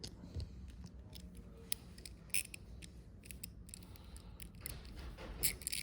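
A socket wrench loosens a 10mm bolt on a BMW F900R motorcycle, producing quiet, sparse ratchet clicks in short clusters against a low, hushed background.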